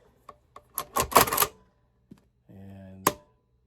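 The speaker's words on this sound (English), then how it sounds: "that is a quick trigger with a really, really tactile reset" A Hiperfire AK trigger clicks and resets, heard as a few sharp, close mechanical clicks and a short rattling burst, with a low hum before a final crisp click.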